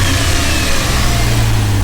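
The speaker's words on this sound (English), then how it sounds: "if I go over to the actual throttle body and I move it manually with my hands, you'll hear the difference" A Dodge Dakota R/T engine revs hard as its throttle body is opened by hand, a loud, sustained roar filling the whole short stretch at close range.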